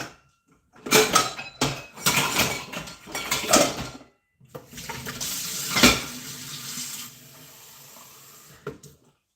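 Tap water runs into a glass at a kitchen sink in bursts, with a hissing splash, brief clinks of dishes and a steadier stream in the second half, close and fairly loud.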